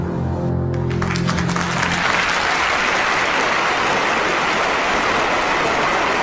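Sustained, dense applause from a large assembly clapping for Stalin, loud and unbroken, a steady roar of hands that never fades.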